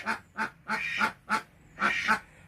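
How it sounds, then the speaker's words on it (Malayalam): Ducklings quack in a quick, repeating series of about seven short, nasal calls, fairly close and clear, with no talking over them. "താറാക്കുട്ടങ്ങൾ ഇവിടെ ഇങ്ങനെ കറങ്ങി കിടക്കും."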